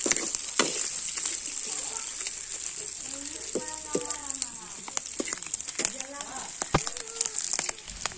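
Fish sizzles and crackles as it fries crisp in hot oil, a steady bright hiss with sharp pops and scraping stirs, while a voice talks over it.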